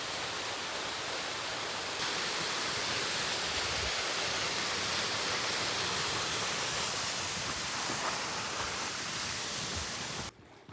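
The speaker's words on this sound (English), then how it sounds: "I believe this is called Obsidian Falls" Obsidian Falls, a waterfall along the Pacific Crest Trail, pours in a steady, fairly soft rushing hiss heard from a moderate distance, cutting off abruptly near the end.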